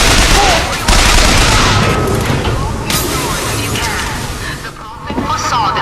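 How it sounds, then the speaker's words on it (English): Continuous gunfire from a Bioshock Infinite battle, a dense, loud stream of shots and booms with crashing impacts over nearly six seconds, with some voice mixed in. "Start shooting the guys who are shooting at me."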